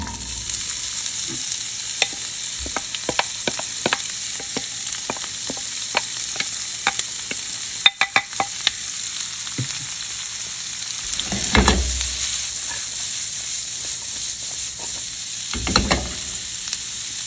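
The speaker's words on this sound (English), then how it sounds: "I'm going to go ahead and drop in our poblano peppers and white onion" Poblano peppers and white onion cook in melted butter in a pan, giving a steady close sizzle broken by frequent sharp clicks of a utensil and a couple of louder stirring bursts, with no talking.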